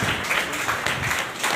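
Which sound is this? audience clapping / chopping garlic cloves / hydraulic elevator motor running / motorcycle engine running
audience clapping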